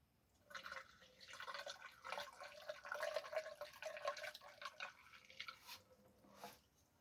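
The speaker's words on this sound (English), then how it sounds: "I'm going to pour this gas out of this tank in it." Gasoline pouring out of the small gas tank of a Briggs and Stratton 2.5 hp engine: a faint, steady trickle and splash of liquid with irregular drips, close by and soft, no talking.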